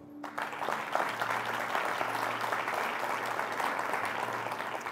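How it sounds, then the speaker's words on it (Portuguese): Sustained applause fills a church congregation at a business-themed sermon, steady and dense for the whole stretch after a brief quiet start, with a low hum underneath. "Dê outro aplauso a ele."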